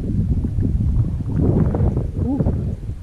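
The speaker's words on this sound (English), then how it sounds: "You can see the wind, how it's just pushing me around now." Steady wind buffets a canoe on the Hells Bay canoe trail in Everglades National Park, a continuous low rumbling rush of air close to the microphone with faint water sounds underneath.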